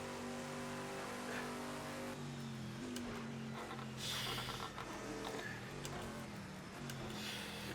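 Race cars compete at Le Mans 1989 in the video game Project CARS 2, including a Jaguar and a Porsche 962, with loud continuous engine roar and shifting revs that rise and fall as cars jostle.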